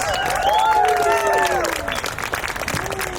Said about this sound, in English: Give it up one more time. Round of applause.